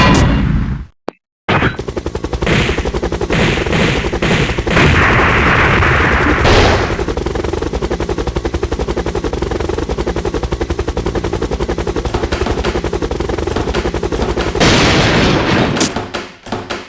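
Rapid automatic gunfire from a video game rattles loud and continuous for most of the stretch, with heavy bursts and booms layered over it after a brief silent gap near the start.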